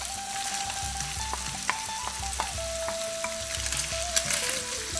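Minced meat and onions for a spaghetti bolognese fry in a pan, a loud continuous sizzle broken by repeated spatula clinks and scrapes as the mixture is stirred.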